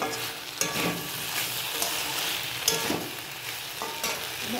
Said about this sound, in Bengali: তো এই তেলটা যখন ছাড়বে আর একটু নাড়বো